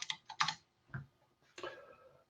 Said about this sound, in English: keyboard's in the wrong place, that's why I'm typing